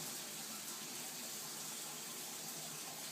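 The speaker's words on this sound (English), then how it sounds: "Check the shower for hot and cold." Steady broadband hiss of a shower running at full flow in a house bathroom during a home inspection, constant and fairly close with no pauses and no voices.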